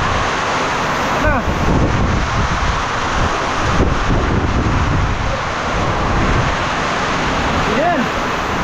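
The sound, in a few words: strong wind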